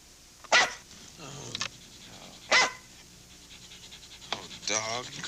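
A dog in a 1981 TV commercial barks twice, sharp and close, with panting between the barks against a quiet background.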